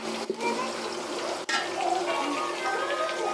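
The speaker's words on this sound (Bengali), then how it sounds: "এখানে আমি চুলায় এই যে পেঁয়াজ গরম বসিয়ে দিয়েছি" Onions heating in a pan on a stove while preparing beef biryani, giving a steady close sizzle and crackle throughout, broken by a couple of brief clicks.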